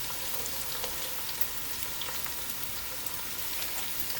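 Garlic sizzles quietly in a hot pan for a seafood fra diavolo sauce, a soft, steady crackling hiss with faint pops throughout and no speech.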